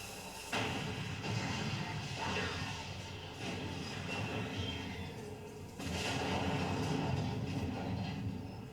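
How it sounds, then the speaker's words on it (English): A big explosion from the 1984 film The Terminator booms through a rumbling, crackling action soundtrack, with heavy blasts surging at the start and again later over sustained low roar. "that's a big enough explosion that I feel like it would do damage"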